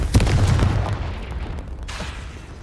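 A Confringo blast spell goes off in Hogwarts Legacy, a loud booming burst at the start that rolls into a rumbling, crackling tail and fades over a couple of seconds.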